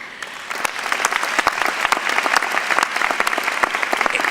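Applause at a business school commencement ceremony: a dense, loud wave of many hands clapping from a crowd, sustained for several seconds with no talk over it.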